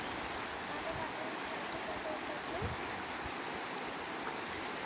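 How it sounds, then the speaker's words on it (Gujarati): Continuous rushing of the Ganges river flowing at Saptarishi Ashram, Haridwar, steady and broadband with no pauses, heard fairly close with a faint voice mixed in. "માં ગંગાનો પ્રવાહ સરસ રીતે પાણીનો અવાજ આવી રહ્યો છે અને પાણી આગળ વહી રહ્યું છે."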